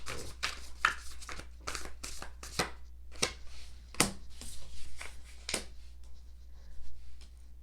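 Tarot cards are shuffled and drawn by hand, giving a close series of crisp riffling flicks and snaps in irregular bursts over a low steady hum.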